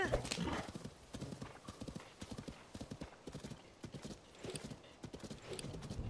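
A horse's hooves clip-clopping in The Legend of Zelda: Tears of the Kingdom, a quick steady series of close hoof knocks with a brief whinny near the start.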